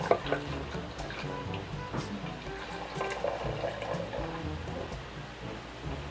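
Hot water pours steadily into a press coffee maker, a soft continuous trickle and splash lasting several seconds at low volume.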